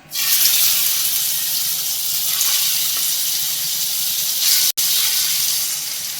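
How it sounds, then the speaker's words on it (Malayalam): Chicken pieces being laid into hot oil in a pan for shallow frying give a loud, steady hiss and sizzle that runs unbroken for several seconds, with one brief cut near the end and no talking. "എണ്ണ ചൂടായി വന്നിട്ടുണ്ട് നമുക്കിതിലേക്ക് ചിക്കൻ പീസസ് വെച്ചു കൊടുക്കാം"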